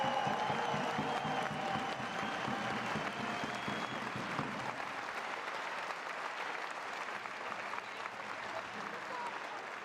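A big round of applause for behind-the-scenes volunteers at a fitness championship final, with steady, broad clapping and crowd noise throughout, easing slightly toward the end.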